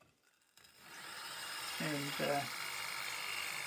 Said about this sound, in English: just making a ring that's deep enough to guide the drill